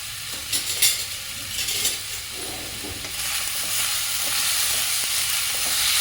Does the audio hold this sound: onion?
yes